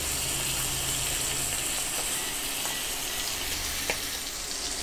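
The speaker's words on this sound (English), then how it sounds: "I'm going to let this sear for about 3 minutes on medium-high heat, just to give the bottom side a nice brown" Steak sears in a pan over medium-high heat with a continuous soft sizzling hiss. A few faint pops and crackles rise now and then over the steady frying.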